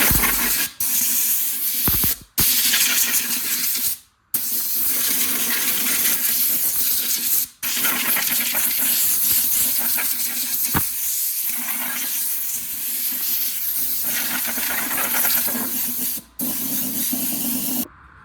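A loud, continuous hiss of compressed air blasting loose paint and material off a trailer rim close by, interrupted by a few brief pauses.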